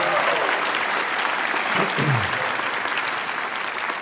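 Sustained lecture-hall applause for Mouhannad El-E'ek at the Edward W. Said Memorial Lecture, thick and even throughout, with a brief voice surfacing midway before the clapping carries on.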